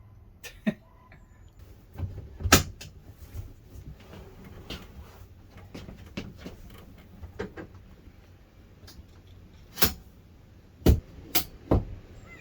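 A TrailManor 2720QB camper trailer door is worked shut outdoors on a breezy day, giving soft creaks and several sharp latch clicks spread over the quiet, with no voices.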